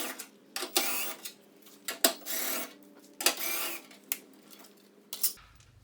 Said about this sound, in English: the first thing I have to do is I have to take off all 4 of these bolts